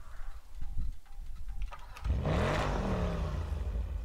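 A car engine in a GTA 5 roleplay scene cranks and then revs up while failing to start properly, a rough low roar swelling suddenly after quieter sputtering sounds, steady and close.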